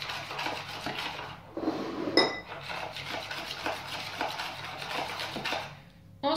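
A spoon or whisk clinks steadily against a bowl while marble cake batter is stirred with milk, a rhythmic scraping and tapping close by with no talking.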